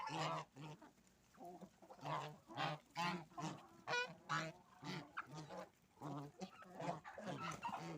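Geese and ducks honk and quack in a busy chorus of repeated calls, close and fairly loud, with farmyard bird noise throughout.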